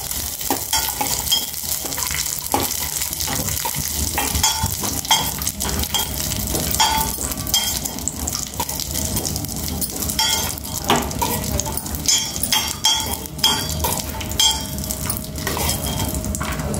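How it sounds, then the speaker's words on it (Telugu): Dry fruits fry in a spoonful of ghee in a pan, sizzling continuously while a spoon stirs and scrapes against the metal with frequent clinks, close and steady throughout. "ఇప్పుడు 1 స్పూన్ నెయ్యి వేసి డ్రై ఫ్రూట్స్ మనం వేయించుకుందామండి."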